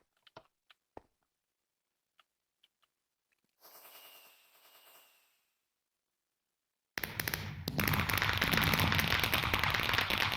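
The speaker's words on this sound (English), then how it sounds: "This is probably fireworks." Fireworks in Minecraft: scattered sharp pops, then a short crackling burst, and after a pause a loud dense stretch of rapid popping and crackling that fills the rest of the sound.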